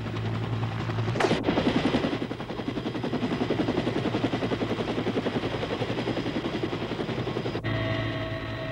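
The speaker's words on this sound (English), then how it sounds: "the medevac helicopter arrives a few minutes later" A Vietnam War medevac helicopter's rotor beats in a rapid, steady chop, loud and close, with a brief whoosh near the start and a sharp click near the end.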